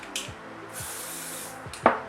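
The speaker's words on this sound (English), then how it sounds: "I'm going to spray it on the back of my hand." Two short hissing bursts of an aerosol foundation spray onto the back of a hand, one early and a longer one in the middle, followed by a soft tap near the end.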